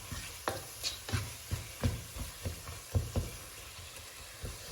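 Tomato pieces and spices cooking down in a pan for a crab curry, stirred with regular, evenly spaced scraping strokes over a faint sizzle, close by and fairly quiet, with no voices.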